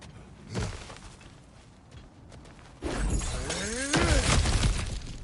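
Cracked ground being smashed through in the God of War Ragnarok game, a sharp shattering crash, then heavier breaking and crumbling debris with a whooshing sweep, loud and close.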